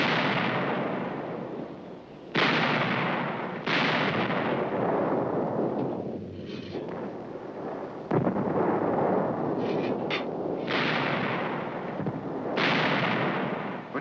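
German artillery fire in a wartime setting, a series of loud booming blasts about every second or two, each rolling off into a long rumbling decay.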